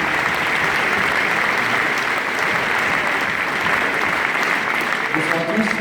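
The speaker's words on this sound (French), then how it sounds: "Allez, Enzo Sanga, sur les applaudissements, mesdames et messieurs." Steady applause from an audience, loud and sustained, with the dense crackle of many hands clapping continuously.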